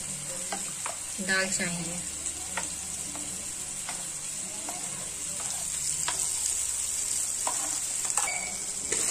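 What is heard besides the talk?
masala frying in oil in a pan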